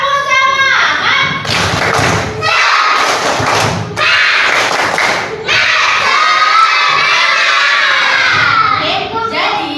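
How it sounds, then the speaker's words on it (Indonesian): Classroom students perform a tepuk semangat spirit clap during a micro-teaching lesson, with loud bursts of patterned clapping and thumping mixed with children's shouts and voices, pausing briefly between rounds. "Tepuk semangat."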